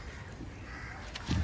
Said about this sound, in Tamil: காக்கா காக்கா.